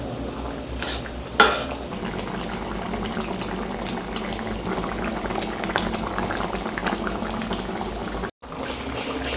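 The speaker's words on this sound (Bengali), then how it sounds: "তো ভালো করে ফুটে গেছে এখানে দেখুন" Potatoes and eggplant boil in a pot of water on a gas stove with a continuous close bubbling and churning, one brief knock early on and a momentary cutout near the end.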